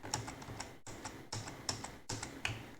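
Space bar pressed on a computer keyboard, a run of soft close key clicks in short clusters, faint and alone.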